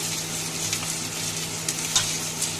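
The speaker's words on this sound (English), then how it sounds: "We're going to stir it a little bit" Ginger garlic paste and onions sizzle in a frying pan while being stirred, a dense continuous crackle with a few scraping spatula strokes, close and fairly loud.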